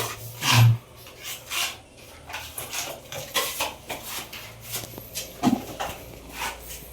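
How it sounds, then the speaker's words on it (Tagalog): Rough, rhythmic rasping strokes of sandpaper scraping a skim-coated ceiling, repeated in uneven bursts at close range. "Tapos sabay liha."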